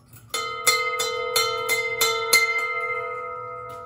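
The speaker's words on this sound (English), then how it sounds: "So one last ring of the big bell from the boat." A big bell from a boat rings out about seven times in a quick irregular series, each clang bright and metallic and loud, then leaves a long humming tone that slowly fades with no other sound.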